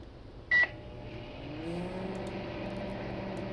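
A microwave oven hums steadily in a quiet room, with one short, sharp beep near the start.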